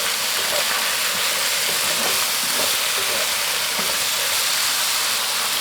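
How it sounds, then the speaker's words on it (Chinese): Vegetables stir-frying in a wok with soy sauce, oyster sauce and seasoning, a steady loud sizzle with scattered scraping stir strokes throughout. "煸炒出香味儿"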